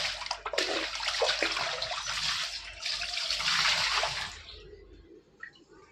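Water is poured and splashes across a balcony floor during washing. The flow is loud and rushing for about four seconds, then tapers off into faint drips and trickles.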